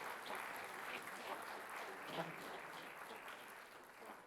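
A conference audience at a National Review event gives a steady round of applause, a dense wash of many hands clapping at even loudness for several seconds with no voices on top.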